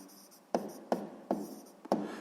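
Pen strokes scratching across paper while a maths answer is written down, four short bursts in a quiet room, close and soft, with no talking.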